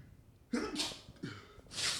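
A single sharp sneeze bursts out, followed by a short second burst and then another loud, breathy sneeze near the end, all close and fairly loud.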